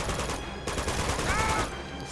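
Gunfire in the action game Uncharted 2, rapid bursts of automatic shots crackling in quick succession with a voice talking over the shooting.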